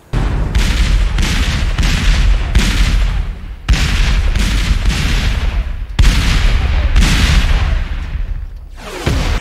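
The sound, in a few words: artillery bombardment in the film Gettysburg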